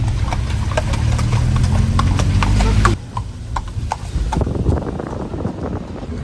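Horse hooves clip-clop in a steady rhythm at a tourist horse-riding area, loud and close for about three seconds with a rumbling engine beneath, then the hoofbeats continue more faintly as they move away.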